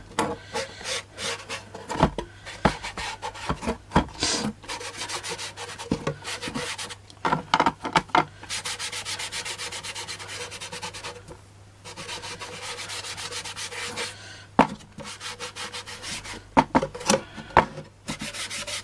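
Polish rubbed onto wood with a cloth as a stain and varnish, repeated brisk rubbing strokes in uneven bursts with a steady low hum underneath and no talking.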